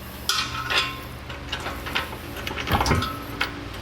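Bolts fitted with lock washers and flat washers are hand-threaded into an EcoHitch hidden trailer hitch receiver on a 2016 Volkswagen. Light metallic ticks and clinks come in a scattered, irregular rhythm, close and fairly quiet.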